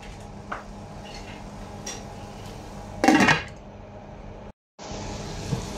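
A metal lid clanks onto a pan of sautéed chayote and pork with a short bright rattle, heard over a low kitchen hum with a few faint clicks around it.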